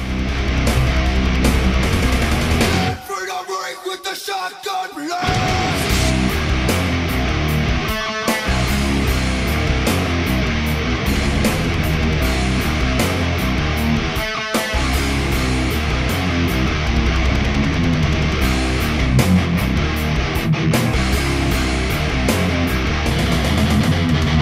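Heavily distorted metal electric guitar chugs through power chords in a section of a song, loud and dense throughout, with brief gaps and a short break near the start.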